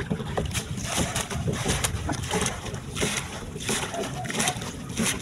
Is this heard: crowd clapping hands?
no